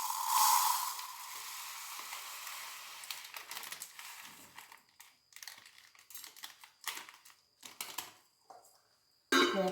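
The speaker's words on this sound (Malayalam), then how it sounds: "കടുക് പൊട്ടിക്കൊട്ടാം" Mustard seeds crackle and spit in hot oil, a dense sizzle at first that breaks into scattered sharp pops and bursts, close and fairly loud, with no voice over it.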